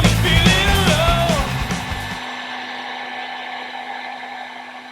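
A heat gun blows hot air onto a Sub2000 rifle handguard wrapped in a rag, a loud steady whooshing roar for about two seconds that then cuts off, leaving a low electrical hum.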